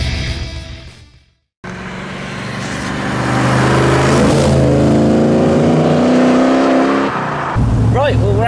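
A car running on a road test after a fresh road setup, engine accelerating loud and close with a rising tone, a brief dropout early on, then a short squeal-like sweep at the end.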